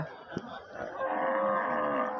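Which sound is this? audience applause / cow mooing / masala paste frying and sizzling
cow mooing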